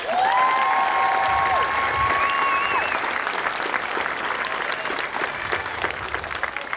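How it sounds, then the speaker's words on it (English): An audience at a US Air Force basic military training graduation ceremony applauds steadily and loudly for the whole stretch, with thin whistles rising over the clapping early on. "Round of applause, folks."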